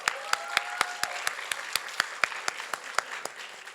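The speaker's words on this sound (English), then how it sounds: "one final massive round of applause for their huge input in today" A small conference audience claps in a thin, uneven patter, a few distinct hand claps standing out sharply against a quieter background of scattered applause, fading slightly toward the end.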